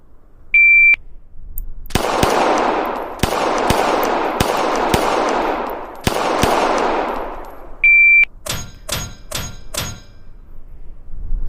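Gunfire in a VR shooting game during a strong-hand-only drill: a start beep, then a string of sharp single shots spaced about a second apart, a second beep, and a faster closing volley.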